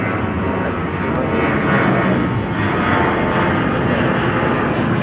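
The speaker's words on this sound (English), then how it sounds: "Southwest Flight 2092 off to Dallas. Love Field. That's a 737-800." A Southwest Boeing 737-800 jet takes off at Chicago O'Hare, bound for Dallas Love Field, with a loud, steady broadband engine roar that fills the whole span without letting up.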